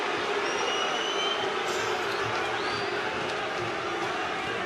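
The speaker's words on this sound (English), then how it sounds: "Crowd saying what they think." Crowd at a boxing title fight making a dense, continuous roar of shouting and cheering from a large audience, with scattered calls rising out of it.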